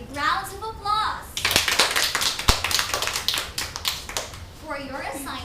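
Classroom applause bursts out between stretches of children's voices, a dense patter of hand claps and taps that swells for a few seconds and then fades as chatter resumes.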